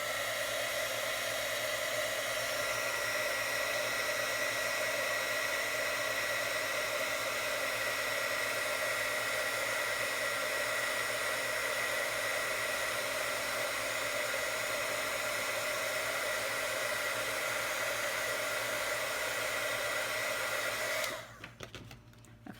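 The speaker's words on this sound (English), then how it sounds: "And emboss it with the heating gun." A heat gun blows steadily for about twenty seconds while melting white embossing powder on a handmade gift card holder, a constant broadband whoosh with a faint motor hum, cutting off abruptly near the end.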